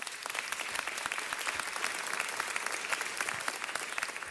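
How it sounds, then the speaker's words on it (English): An audience at a city council meeting gives sustained applause, steady dense clapping throughout, moderately distant and even in level, without voices. "I think Los Angeles deserves a big round of applause."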